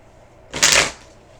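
A deck of tarot cards is shuffled in one quick, crisp riffle burst lasting under half a second, close and alone.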